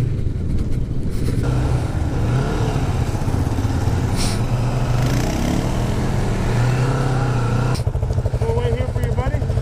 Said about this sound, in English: Your exhaust likes to pop a lot.